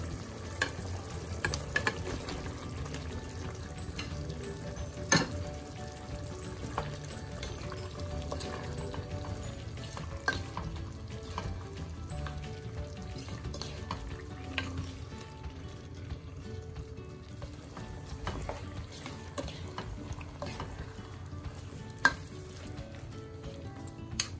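Potatoes frying and sizzling in a pan for Filipino potato adobo, a steady close crackle with occasional stirring clinks and scrapes, no voices.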